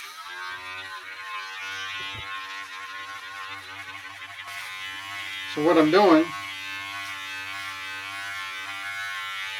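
Electric hair clippers run steadily through a regular haircut trim, a constant buzzing hum heard close up beneath someone talking, with a brief louder burst partway through.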